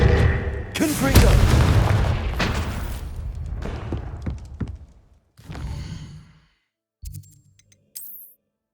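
A Confringo spell explosion in Hogwarts Legacy bursts with a loud, deep boom that rumbles and fades over a few seconds, followed by a couple of shorter thuds and a brief sparkling chime.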